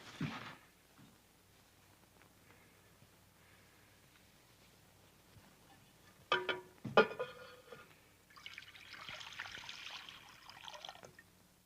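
Water trickles and splashes as someone washes, a faint drip and pour that rises into a louder, sustained splashing toward the end.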